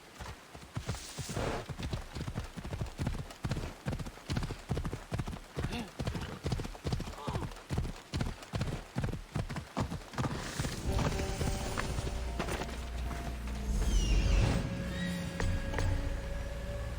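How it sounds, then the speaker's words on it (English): Horse hooves clip-clop in a fast, steady rhythm through about ten seconds of galloping in Assassin's Creed Odyssey, set in ancient Greece, giving way to louder ambient game sound and a few voices afterward. "Ride, Phobos"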